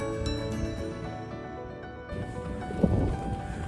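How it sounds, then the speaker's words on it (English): Breezy wind gusting over an open mountain ridge in the Black Mountains, a steady broadband rush that swells louder in the second half with buffeting against the microphone. "a bit breezy now, you can probably hear the wind"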